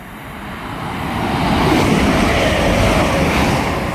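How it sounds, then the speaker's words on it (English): An Arriva Trains Wales class 175 diesel unit passes on the West Coast Main Line at Hartford, a broad rushing rumble that builds over the first seconds and holds steady and loud at close range. "our first passing train of the day is going to be an Arriva Trains"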